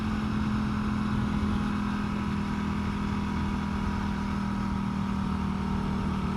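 A Norton Commando 961 CR motorcycle's parallel-twin engine running under way, a steady deep hum with a strong droning tone and constant rushing wind, close and uninterrupted throughout.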